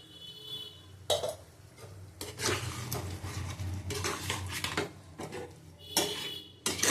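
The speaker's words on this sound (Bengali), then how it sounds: "ভালো করে কষিয়ে নেবো" Pumpkin, potato, pointed gourd and chana dal are stir-fried in a pot, with bursts of metal spatula scraping and clattering against the pot separated by quieter pauses.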